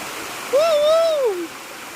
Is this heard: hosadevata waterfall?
yes